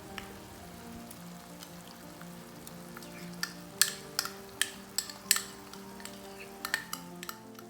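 A ground paste of shallots, garlic and dried red chilies sautés in a pan for Kerala prawn pickle: a soft, low sizzle, then sharp spoon clicks and scrapes against the pan in the second half.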